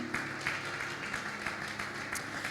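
Steady applause from a church congregation fills the space, a dense, continuous wash of many hands clapping with no talk over it.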